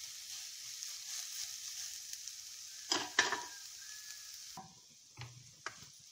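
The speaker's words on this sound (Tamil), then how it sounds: "பாவக்காய் நல்லா வதங்கிடுச்சு." Bitter gourd pieces sauté in a kadai with a continuous sizzling hiss, then a few louder scraping stirs near the end.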